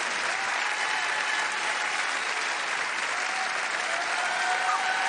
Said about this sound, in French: Et on peut l'applaudir, mesdames, messieurs.